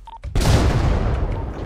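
A bomb goes off in a GTA 5 roleplay game, a sudden loud boom after a brief quiet moment, followed by a sustained rumbling blast that fills the rest of the short moment.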